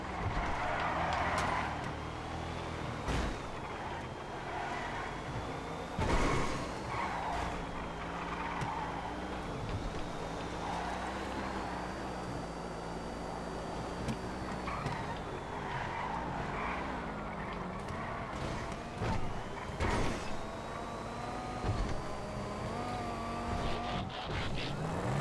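Coil Cyclone car driving in GTA FiveM, a continuous rising and falling engine whine with tire skids and squeals scattered throughout, loud and close, with no one talking.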